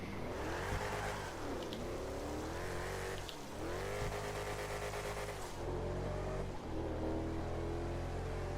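Engine of an Albany Frankan Stange car in a video game, droning steadily at top speed with the pitch rising and dipping through gear shifts, loud and continuous with no talking.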